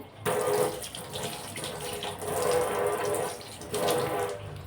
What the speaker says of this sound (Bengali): চলো একটু হাতটা ধুয়ে নিই, হাতে তেল বোঝাই